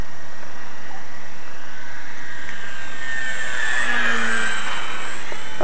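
A Dynam Spitfire model plane passes overhead in a flyby, its whining engine rising in loudness and pitch as it approaches, then sliding downward as it passes and recedes.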